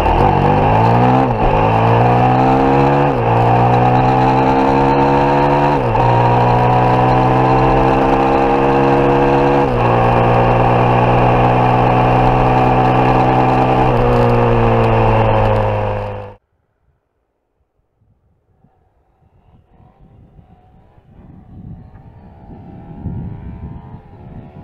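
A KTM 950 Super Enduro R V-twin motorcycle engine runs loud and close, revving up in several steady pulls before cutting off abruptly, leaving faint background noise.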